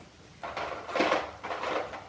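Light washable plastic drawers on a thread storage trolley slide open in two or three quick scraping pulls, close and fairly soft, with no talking.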